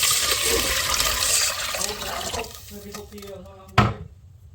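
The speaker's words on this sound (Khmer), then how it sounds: "ក់ទឹកចូលដើម្បីធ្វើស៊ុប" Water pouring into a pot of fried garlic to start a bitter melon soup, a close rushing splash that thins out near the end, followed by one sharp knock.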